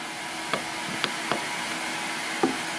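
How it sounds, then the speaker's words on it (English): An ultrasonic cleaner heating up gives a steady, faint background hiss and hum, broken by a few soft knocks. "If you hear that noise in the background, that's just the ultrasonic cleaner heating up."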